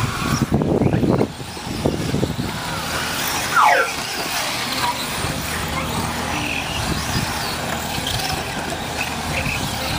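Electric RC buggies race on an outdoor club track during an October qualifier, their motors whining and buzzing continuously with a brief pass close by, under steady background noise.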